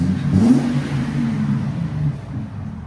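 A deep, rumbling Ford Excursion 6.8L V10 revs briefly up close through a Magnaflow exhaust, a low throaty note swelling and then settling back toward idle.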